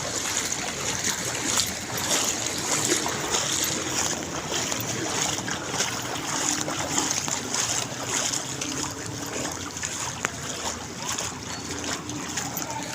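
Steady sloshing and churning water with a low motor rumble as a boat pushes through floodwater during a typhoon, continuous and fairly close.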